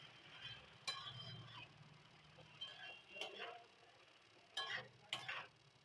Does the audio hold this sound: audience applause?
no